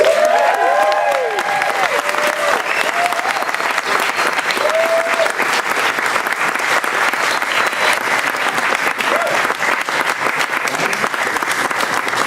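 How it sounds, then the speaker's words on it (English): A Halloween Horror Nights audience welcomes director John Landis with loud, continuous applause and some cheering, a few voices calling out early on. "Please welcome with a big round of applause"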